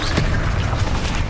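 A Bombarda blasting spell exploding in Hogwarts Legacy, a loud, close boom with a sharp burst near the start that rolls into a dense, sustained rumble.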